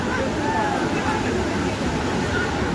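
Pokhali waterfall in Nepal roars as a dense, constant rush of falling water, loud and close, with a crowd's faint chatter blended into the wash.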